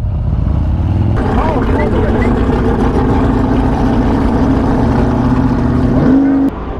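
Zipper's Performance Harley-Davidson Street Glide motorcycle racing a BMW, its engine loud and close, droning steadily and then climbing sharply in pitch as it revs hard through acceleration.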